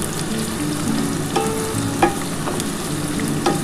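Whole garam masala spices fry in oil in a pan for chicken kosha, loud close sizzling with a few sharp scrapes and clinks of a spoon stirring, no voices.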